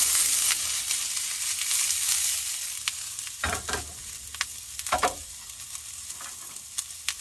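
Smoked sausage fajitas sizzle steadily in a pan over a camp stove outdoors, with louder bursts of frying and occasional scrapes and clinks as the food is stirred.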